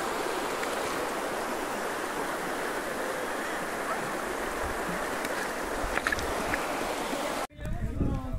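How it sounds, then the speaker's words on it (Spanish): The Jamao al Norte river in Moca, Dominican Republic, rushing steadily close by as a continuous broadband wash of flowing water, cut off near the end by a brief bump of handling noise. "Esto se llama Río Amao al Norte."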